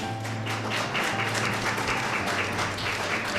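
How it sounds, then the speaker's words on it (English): Audience applause for an honoree, Judge Taneka Frost, at a Women of Distinction awards ceremony; steady, dense clapping that fills the room without a break, with a low hum underneath. "Let's give a round of applause for that."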